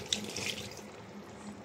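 Broth pours into a pot of clam tinola soup, a brief soft splashing and trickling of liquid heard up close and fairly quietly.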